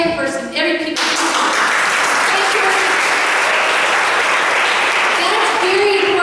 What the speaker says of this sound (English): when one person claps, everybody claps